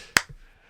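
One sharp hand clap lands right after a countdown, close and crisp, then a short quiet tail with no other sound.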